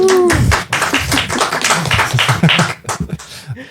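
Dense applause from a crowd, added at the close of a podcast recording, runs steadily for several seconds and then thins into scattered claps, loud and close.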